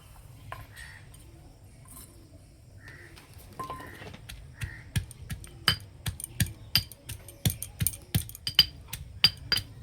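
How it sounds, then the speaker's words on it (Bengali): Coriander leaves, green chili, ginger and garlic being crushed in a mortar and pestle, with sharp stone-on-stone knocks that begin sparse and settle into a steady rapid pounding rhythm, close and clear. "এটা হামাল দিস্তায় থেতো করে নেব"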